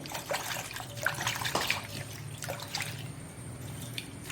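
Dried prawns rinsed in a bowl of water in a kitchen, with soft sloshing and trickling, light drips and splashes close by, steady and fairly quiet.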